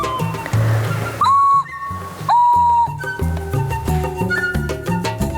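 A Lithuanian traditional clay whistle shaped like an animal is blown in a few short, bright sliding tones, standing out over a background of other sound and music.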